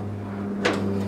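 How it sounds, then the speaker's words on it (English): A stuck garage door in a home workshop full of old computer gear is shoved aside, giving one brief scraping clunk over a steady electrical hum. "let me move this door out of the way"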